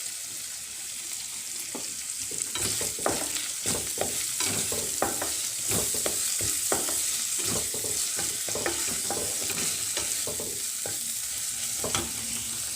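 Potatoes fry in a pan for an Assamese-style potato dish, with a steady close sizzle and repeated sharp scraping and stirring clicks running throughout, no talking.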